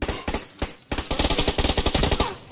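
Rapid automatic gunfire in the shooter game PUBG Lite, dense bursts of sharp close shots with brief gaps, loud and continuous across the stretch.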